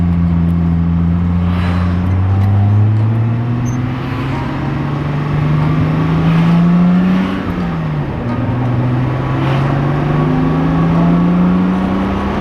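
A Datsun 280Z engine drones and revs up through its gears, pitch rising, dropping, then climbing again, steady and close with no talking.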